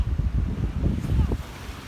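Blustery wind buffets the microphone with a low roar, and sea waves wash in the background; no one speaks.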